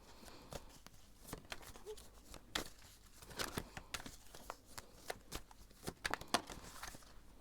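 Crisp, papery tarot card shuffling in quick bursts with soft riffles and taps, close and fairly quiet, no talking.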